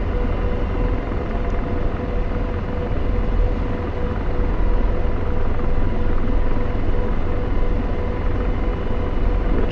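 An AH-64D Apache attack helicopter in the DCS flight simulator, a steady, loud, unbroken rotor and turbine drone holding constant throughout with no talking.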